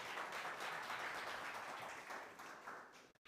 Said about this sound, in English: Give me a hand of applause.